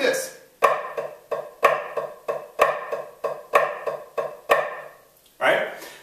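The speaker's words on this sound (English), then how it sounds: "So those are flam accents." Flam accents are played back to back on a snare drum: crisp, close, ringing strokes in repeating groups of three, with the louder accented hits falling at a steady, even pulse.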